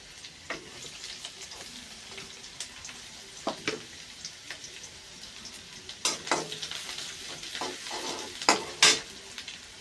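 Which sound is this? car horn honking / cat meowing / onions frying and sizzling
onions frying and sizzling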